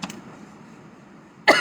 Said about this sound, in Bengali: আমার দিকে কাশি কন্টিনিউয়াসলি হচ্ছে